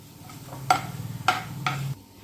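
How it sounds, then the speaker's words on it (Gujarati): Whole cumin seeds sautéing on low heat in a pan for Janmashtami panjari, with a soft sizzle under three sharp metallic stirring clinks of a spoon against the pan. "આખું જીરું લીધું છે તે ઉમેરી દઈશું અને તેને પણ આપણે સાતળી લઈશું"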